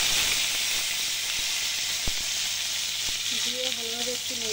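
Cut potatoes hit hot oil already holding dry red chillies and whole cumin, giving a loud, continuous sizzle and hiss with a few sharp clicks of a utensil, no talking.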